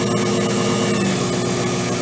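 A Grizzly micro lathe motor running steadily, a constant close mechanical hum and whine with no pauses or talk.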